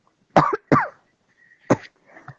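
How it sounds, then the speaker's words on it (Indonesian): Several sharp coughs close by: two quick ones together, a pause, then another cough and a softer throaty one at the end. "maaf, aku lagi baru batuk."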